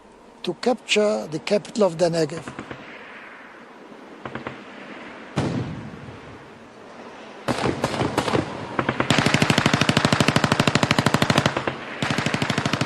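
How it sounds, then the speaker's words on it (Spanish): Bursts of automatic gunfire and single shots crackle back and forth, loud and sharp, with rapid sustained volleys toward the end, during a battle for an Egyptian-held fort in the Negev. "Después de un intercambio de disparos,"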